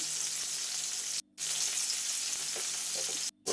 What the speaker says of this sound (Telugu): పసుపు అంతా మిక్స్ అయ్యేలాగా కలుపుకోవాలి.